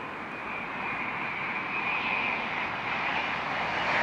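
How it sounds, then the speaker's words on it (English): Broad, steady roar of a British Airways Boeing 787-10 Dreamliner arriving at Heathrow from Seattle, a continuous mid-distance engine drone that holds at an even loudness throughout. "inbound from Seattle on a 787-10 Dreamliner"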